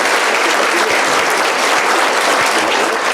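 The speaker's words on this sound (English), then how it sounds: "So a big round of applause for all of our sponsors." Loud, steady applause from an audience at a 2019 Chamber of Commerce women's achievement awards event, a dense, even wash of clapping that holds for the whole stretch without talk.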